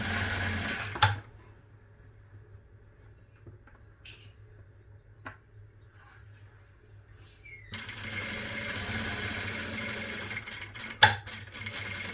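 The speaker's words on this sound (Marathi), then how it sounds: "अगदी कडेकडेने ही शिलाई घ्यायची आहे," A sewing machine stitches the lining into an embellished work blouse, running close along the edge in a steady low mechanical whir from about 8 seconds onward, after a quieter stretch with a few faint clicks and taps.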